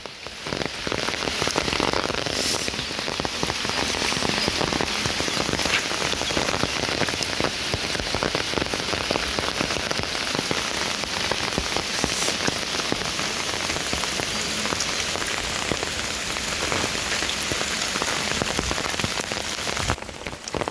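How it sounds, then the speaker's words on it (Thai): Heavy storm rain pours down steadily through the night at a farm campsite, a dense continuous hiss of drops drumming on surfaces with no break throughout. "ฝนตกลงมาจังสิ"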